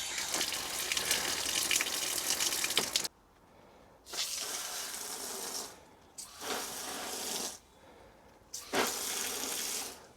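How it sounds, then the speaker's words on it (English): A garden tap feeding a polytunnel drip system gushes in strong bursts, running steadily, cutting off, then starting again several times with short quiet gaps between. "That's obviously just a tap."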